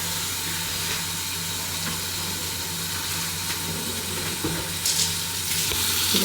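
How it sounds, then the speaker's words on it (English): Steady, dense sizzling of ground beef frying in a hot pan, continuous crackle with occasional louder spits and stirring scrapes near the end. "Beautiful sizzling beef."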